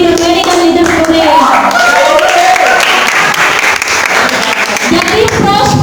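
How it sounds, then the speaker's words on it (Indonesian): A room full of people claps loudly and steadily for leaders Weni and Nuril at a sales workshop, with voices mixed into the sustained applause. "berikan aplaus buat leader Weni dan leader Nuril"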